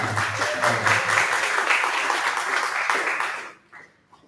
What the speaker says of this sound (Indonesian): Tepuk tangan untuk Savandra.